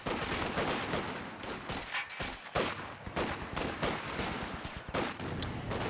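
A .50 caliber machine gun fires in Company of Heroes 2 combat, giving dense, sustained bursts of rapid shots amid steady battlefield noise at fairly low volume.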